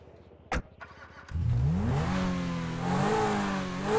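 A Zentorno sports car engine in the video game GTA 5 cranks with a brief click, then fires up and settles into a loud, rumbling idle with rising revs close by.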